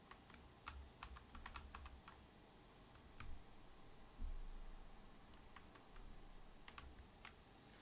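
Quiet, close typing on a computer keyboard while logging in, irregular clusters of soft key clicks with brief pauses over a faint hiss, no talking.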